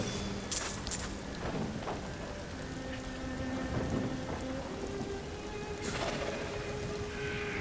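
Steady rain pours in a stormy coastal area of the game Diablo 3, with thunder cracking and rumbling at intervals over the constant downpour; no talking.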